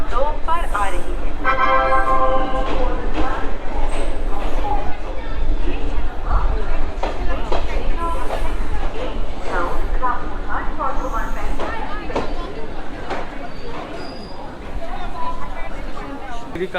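A Maa Tara Express train pulls into Santiniketan station, rumbling and clattering loudly and steadily with a horn toot, while people chatter and a voice speaks over the noise on the busy platform.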